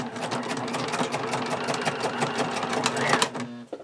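A sewing machine stitching a pencil bag runs in a steady, close, rapid mechanical chatter with a constant motor hum, then slows and stops with a few final clunks.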